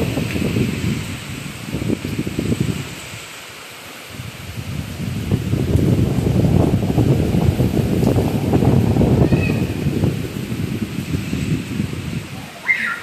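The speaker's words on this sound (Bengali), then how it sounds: "দেখো পুরো একদম বৃষ্টি হাওয়া একসঙ্গে মিলেমিশে একাকার।" Gusting wind roars and swells over a steady hiss of falling rain soaking a balcony, rising and easing in waves, with no voices.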